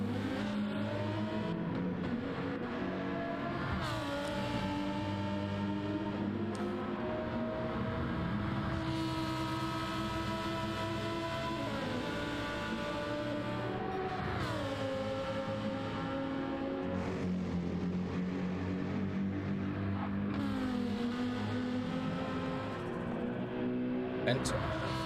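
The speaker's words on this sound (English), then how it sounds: "let's enjoy the sound of that Lamborghini for a little while" A Lamborghini Huracan race car competing in the Bathurst 12 Hour endurance race, its engine droning loudly and continuously, the pitch climbing and dropping repeatedly through gear changes over the whole stretch.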